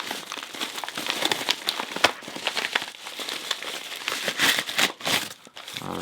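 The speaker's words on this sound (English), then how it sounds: "So we're just going to open this package up" Plastic package of an Abloy padlock being opened, with crinkling, crackling and tearing plastic handled up close in irregular bursts, fairly loud and without talk.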